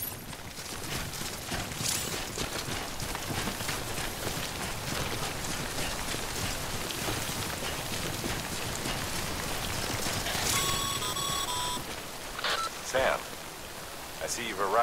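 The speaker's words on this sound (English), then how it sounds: "Don't stay out in the rain any longer than you have to." Steady rain, the timefall of the video game Death Stranding, hisses evenly throughout at moderate level. Near the end a few brief electronic tones and thumps rise above it.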